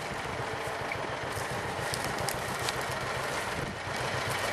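John Deere BW tractor engine idling with a steady, low chugging rumble, moderately close and continuous, alone without voices.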